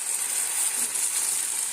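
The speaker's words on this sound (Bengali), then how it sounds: "এবার এটা আমি অল্প আঁচে কষাতে লাগবো" Chicken braises slowly in oil over low heat, giving a soft, even, continuous sizzle close by with no talk.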